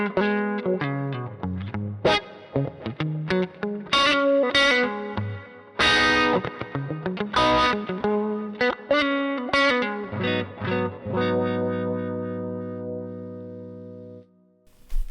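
Distorted electric guitar through a wah pedal fitted with a Mesa Boogie inductor plays choppy riffs and sweeping phrases with chorus-like shimmer, ending on a long sustained chord that fades out; loud and close, with no talking.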